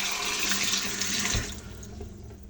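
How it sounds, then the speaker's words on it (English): Tap water gushes into a cooking pot for boiling eggs, a bright, steady splashing stream that thins and quiets as the pot fills, with no voices. "fill with water."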